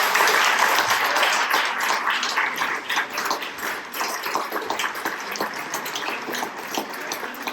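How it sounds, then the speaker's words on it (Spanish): A book launch audience applauds in a dense, even wash of clapping that holds steady and eases slightly toward the end, with no voices over it. "no queda nada más que aplaudir"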